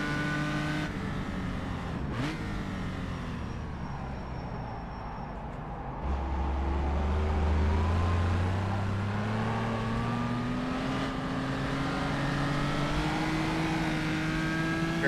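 A historic race car's engine revs from onboard during a preseason test at Rouen, holding a steady loud drone with rising and falling pitch, a deeper surge partway through and brief sharp spikes, with no voices.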